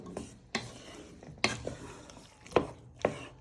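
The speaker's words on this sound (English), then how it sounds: "Now you want to add in a teaspoon of caster sugar. And you want to stir that in." A spoon stirs caster sugar into a black bean sauce with beef in a pan, producing about five distinct scraping strokes against the pan over a faint sizzle, close and fairly loud.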